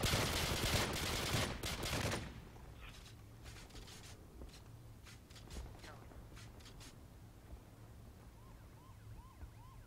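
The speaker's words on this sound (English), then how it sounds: "fire 5 shots" Five gunshots fired in a video game, first as a loud dense burst of shots, then quieter scattered clicks and pops with faint voices in the background.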